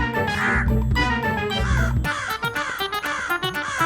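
A crow caws in harsh, repeated bursts, loud and close, with several calls following one another in quick succession.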